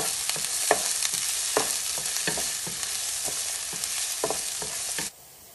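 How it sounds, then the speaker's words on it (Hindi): Chopped onions frying in hot cooking oil give a steady close sizzle, punctuated by regular spoon strokes scraping the pan, before the sound cuts off abruptly near the end. "इसमें आप चॉप्ड ऑनियंस डाल दीजिए। ऑनियन का कलर गोल्डन होने तक फ्राई करिए।"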